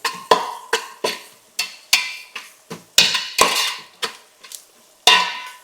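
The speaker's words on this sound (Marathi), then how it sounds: "आता हे सगळा मसाला आहे ना चांगला असा तेलात परतून घेऊया." A spatula stirs red masala, garam masala and turmeric as they fry in oil in a pan for a Konkani jackfruit bhaji, making a series of sharp metallic clanks and scrapes in an uneven rhythm, close and fairly loud.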